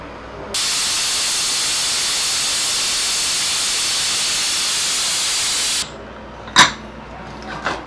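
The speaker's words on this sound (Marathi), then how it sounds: "प्रेशर पूर्णपणे गेलेलं आहे कुकरचं" A pressure cooker holding tomato, carrot and onion for soup vents steam in one loud, steady hiss lasting about five seconds. The hiss cuts off abruptly, leaving a few faint clicks and a sharp clatter.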